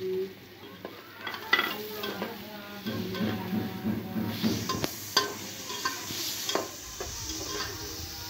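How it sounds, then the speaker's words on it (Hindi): Tomatoes tipped into a hot pan while noodles are being made, with steady sizzling and frying, a few stirring scrapes and clinks of a utensil against the pan, close and fairly quiet, no voices. "अब इसमें डाल रहा हूँ टमाटर"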